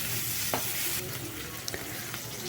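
Sharply cut onions frying in oil in a pan while being stirred, a continuous close sizzle with a few light utensil scrapes and clicks, no talking.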